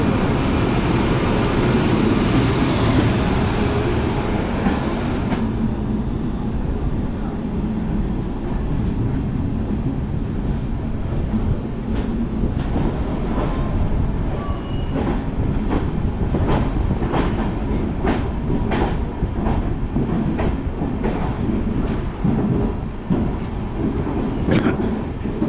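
The Wodeyar Express, heard from inside a second-seater coach between Bengaluru and Mysuru, gives a continuous loud rumble with a steady clickety-clack of wheels over rail joints that grows sharper toward the end.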